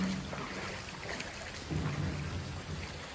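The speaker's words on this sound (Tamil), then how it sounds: "வெளில செம்ம மழை பெய்யுது" Heavy rain pours down outdoors in Chennai, a dense continuous roar of drops with low rumbling thunder rolling underneath throughout, loud and close, no voices.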